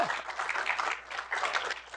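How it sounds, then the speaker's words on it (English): An audience applauds at a policy conversation with an ambassador on renewing America's Pacific compacts, a brief burst of steady clapping from a room of people, moderately loud and continuous for a couple of seconds. "you can clap"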